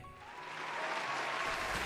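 An audience applauds, a dense burst of clapping that swells and holds steady for a brief moment.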